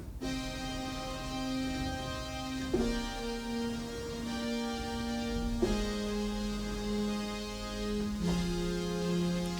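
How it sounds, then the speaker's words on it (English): Sustained synthesizer strings pad, its mid frequencies scooped out by EQ, holding long chords that change about every three seconds, steady and full with no voices. "Now let's go to the strings pad, and it sounds like this."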